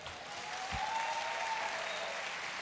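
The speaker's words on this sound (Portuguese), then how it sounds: "Olha, a Alba está puxando um aplauso, inclusive." A church audience applauds in a continuous, even roar of many hands, heard at a moderate distance, with a faint tone lingering in the background.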